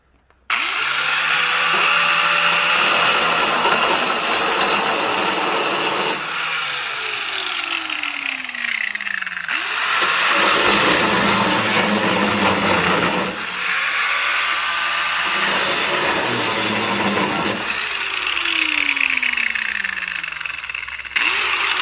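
A power tool grinds paint off the steel of a wood chipper before welding, a loud continuous whine that rises and falls in pitch as pressure on the metal changes.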